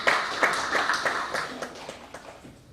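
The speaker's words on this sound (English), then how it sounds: "Another round of applause." An audience claps at an academic stakeholder meeting on establishing a faculty of agriculture and environment, with a short burst of moderate applause that fades over about three seconds.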